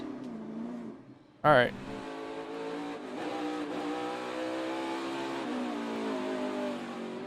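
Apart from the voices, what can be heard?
NASCAR race car revving, spinning rear tires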